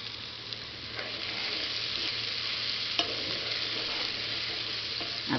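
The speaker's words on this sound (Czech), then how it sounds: "Nechám osmahnout ty papriky" Peppers sautéing in a pan for a chicken paprikash-style dish, a steady close crackling sizzle with light stirring clicks throughout, no voices.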